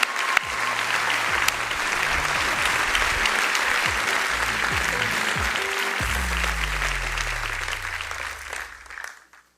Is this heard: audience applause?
yes